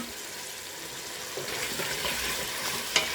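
Frying noodles and vegetables in a hot pan, where added tomato brings a rising, steamy sizzle and stirring, with a short clink near the end and no voices.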